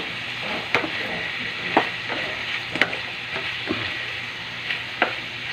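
A pan of sautéed ingredients being stirred with a utensil, a steady sizzle of frying running under several sharp scrapes and clinks against the pan at irregular intervals, close up with no talking.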